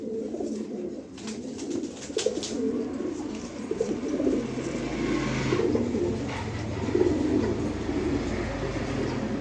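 Pigeons kept for sale coo in low, repeated rumbling calls, several birds overlapping close by against a constant background hum.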